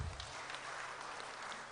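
Steady, dense applause from a crowd at an HKBP church gathering fills the space evenly and stays fairly faint throughout, with no clear voices on top.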